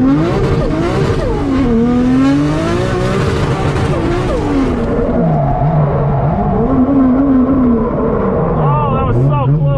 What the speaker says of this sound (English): first lap out in the R33 ever